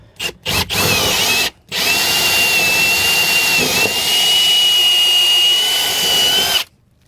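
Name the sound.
power drill drilling down through motorhome floor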